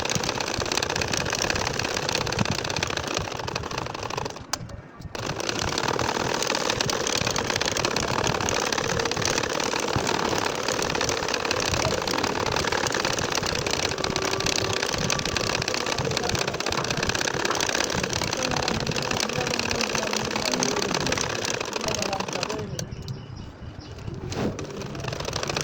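A sewing machine runs steadily while stitching lines on a nakshi kantha quilt, a loud, continuous whirring drone close up with two brief pauses as the fabric is turned.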